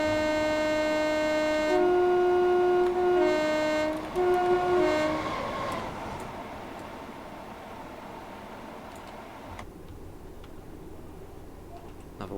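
A Class 320 electric train passes in Train Simulator on the North Clyde Line near Glasgow. A loud two-tone horn blows in several blasts, then the train rumbles past and the sound fades to a quieter steady hum.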